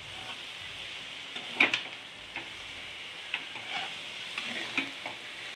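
Peanuts and grated coconut stirred in a pan for a broad bean fry, with a steady soft sizzle and occasional scraping taps of the spoon, fairly faint and close, no talk.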